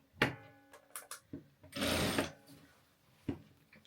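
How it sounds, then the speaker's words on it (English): A sewing machine stitching a fabric scrunchie runs in short bursts, with a longer steady whir in the middle and brief clicks and handling noises between, close and fairly quiet. "whilst we sew one of these Day of the Dead scrunchies"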